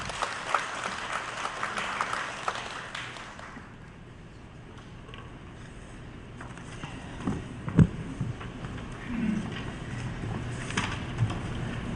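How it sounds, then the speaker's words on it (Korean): Audience applause welcomes a priest speaker at an academic Catholic symposium hall, a brief burst of clapping at the start that quickly fades, leaving a quiet room with scattered faint knocks and shuffles. "큰 박수로 맞이해 주시기 바랍니다."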